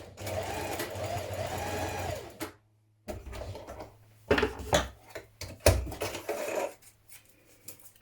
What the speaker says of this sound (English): You're going to stitch it in the seam line down the side.